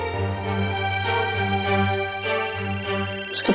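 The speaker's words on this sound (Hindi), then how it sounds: "उसके प्रोड्यूसर का फोन आ रहा है" A phone rings with an incoming call at home, its melodic ringtone looping loudly and steadily for a few seconds with no one speaking over it.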